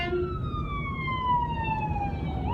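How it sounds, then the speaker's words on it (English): An ambulance siren wails in sweeping tones from a moving car, its pitch sliding gradually downward as it passes, over steady road and engine rumble with no talk. "And there's an ambulance right there."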